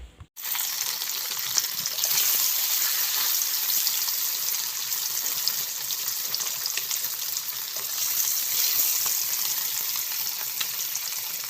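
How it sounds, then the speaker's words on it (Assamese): Fish fries in a pan in a home kitchen with a loud, steady sizzle and crackle that fills the whole stretch after a brief quiet start, with no talk over it. "এইখিনি হৈছে মাছখিনি ফ্ৰাই কৰি লওঁ"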